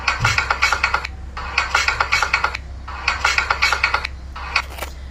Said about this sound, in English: That clunk clunk sound you hear when you ride a bump or enter